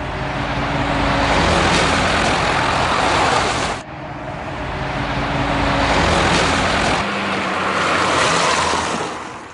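A front-wheel-drive car understeers at high speed, its engine and tyre roar loud and steady with broadband road noise, a sudden cut midway, then the drone resumes and eases at the end.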